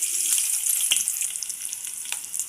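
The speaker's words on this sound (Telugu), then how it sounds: "నూనె గరం అయింది, ఉల్లిగడ్డలు వేయాలి." Steady hissing sizzle of onions frying in hot oil, loud and close, with a few soft clicks of stirring.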